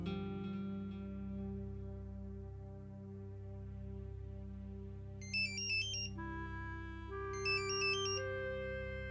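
Late at night a phone gives two short bursts of a chirping electronic ringtone, faint and low over steady background music, with no voices.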